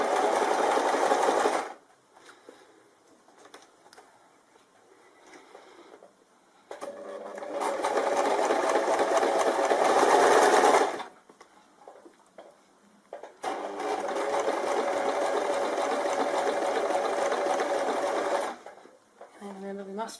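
A sewing machine stitches fabric fed through a bias tape maker, running in steady whirring bursts of a few seconds each, close and loud, separated by pauses where a person talks.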